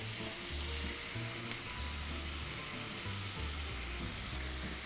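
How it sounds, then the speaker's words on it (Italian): Steady, continuous sizzling of onions frying in a hot pan, close and fairly loud, with occasional crackles and no voices. "le cipolle stanno rosolando"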